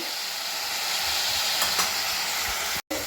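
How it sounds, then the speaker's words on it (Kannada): Brinjal roasting in oil in a pan with salt added, a loud continuous sizzling hiss with a few brief stirring scrapes and a sudden cut near the end. "ಎಣ್ಣೆಯಲ್ಲಿ ಚೆನ್ನಾಗಿ ರೋಸ್ಟ್ ಆಗಬೇಕು"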